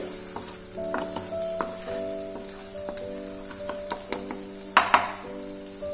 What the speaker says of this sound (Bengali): টমেটোটা অনেকটা ফ্রাই হয়ে গেছে, সাইড দিয়ে তেলগুলোও বেরিয়ে গেছে।